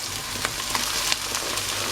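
Onions and bell pepper pieces fry in a little oil in a pan, a continuous soft sizzle with occasional crackles and light pops, close and fairly quiet.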